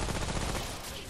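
Gunfire in the video game Remnant: From the Ashes, a dense burst of loud, rapid shots over a continuous roar of game action, with no pause across the whole moment.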